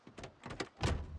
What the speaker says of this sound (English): Heard the door open or something.